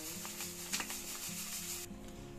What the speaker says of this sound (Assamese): এয়া মই চুজিখিনি অলপ ভাজি ল'ম,